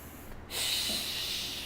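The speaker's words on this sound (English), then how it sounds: "We're here for 4 more deep breaths." Deep yoga breath during a guided flow, a short sharp inhale then a long steady broadband exhale rushing close to the microphone, heard alone without talk.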